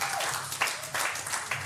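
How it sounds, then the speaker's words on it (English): An audience claps at an event, a short, fairly faint patter of mixed applause that rises and dips in small waves. "Can we all give Mrs. Okewale a round of applause for setting this up?"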